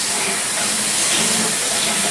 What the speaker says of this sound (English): So I'm just going to rinse that out.